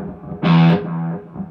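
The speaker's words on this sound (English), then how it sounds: "I'm plugged straight into my Mesa Boogie Mark II tube amp" Electric guitar played through a Mesa Boogie Mark II tube amp with distortion, amp reverb and a delay pedal in the effects loop set for a couple of repeats; one loud, sustained, gritty note swells in, then fades into a softer ringing tail.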